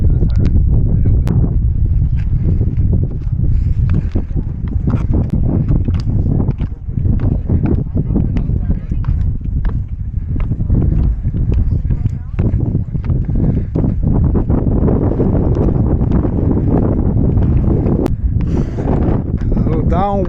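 Strong wind buffets the microphone throughout on a coastal walk in Ireland, a loud continuous roar with gusty surges, and people talk over it.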